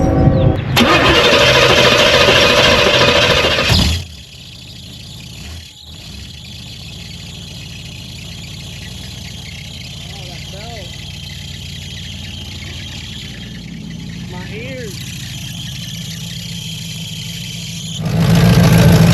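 A loud car V8 engine roars up, drops to a lower steady rumbling idle for a long stretch with faint squeaks, then swells loudly again at the end.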